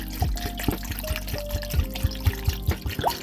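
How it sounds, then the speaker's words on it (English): Cold filtered water poured from a vessel into a stockpot of bones for broth, a steady close pour with bright rising tones as the pot fills, sounding in short repeated surges. "So I'm gonna top this off with cold filtered water."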